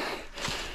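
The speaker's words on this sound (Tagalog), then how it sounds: "Hingal." Someone close by lets out a single heavy, breathy exhale after climbing a mountain trail.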